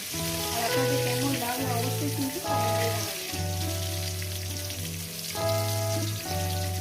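Eggplant slices fry crisp in a pan for spicy mustard eggplant, a steady hiss and crackle of sizzling oil running throughout beneath tonal background music.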